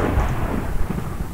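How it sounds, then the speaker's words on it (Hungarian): Thunder from a storm in Minecraft rolls as a broad, sustained low rumble for over a second, fairly loud and heard alone without talk. "Vihar van."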